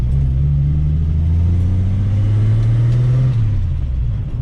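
A vintage first-generation Ford Mustang drives past close by with a loud, deep engine rumble. The pitch holds steady, then drops as the car passes and the sound tails off slightly.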